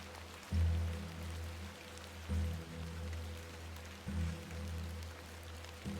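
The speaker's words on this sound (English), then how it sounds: "A bit of rain won't kill me" Soft, steady rainfall in The Excavation of Hob's Barrow pattering on surfaces, fairly quiet, with low rhythmic tones swelling roughly every two seconds underneath.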